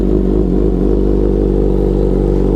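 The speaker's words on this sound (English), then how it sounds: "We're going to go ahead and start with a cold start" A 2024 BMW M1000RR with an aero exhaust idles right after a cold start, a loud, steady, close-up engine drone with an even low throb and no talking.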